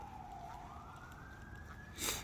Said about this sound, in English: That is sirens coming closer.